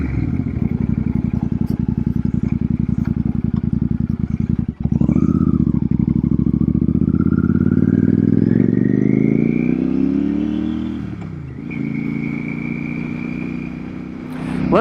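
A Royal Enfield Super Meteor motorcycle fitted with a belt drive rides at night. The engine note drones steadily, then rises smoothly as the bike accelerates through the gears, loud and close, with no talking.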